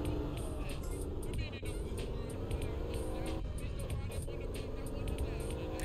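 Car racing engines on a gravel forest course in GTA San Andreas, a continuous loud droning engine roar with shifting pitch, heard near and steady throughout.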